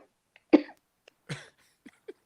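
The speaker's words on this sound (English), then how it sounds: "I just coughing, man. I'm coughing." A few short, dry coughs ring out one by one with pauses between, close and sharp against a quiet background.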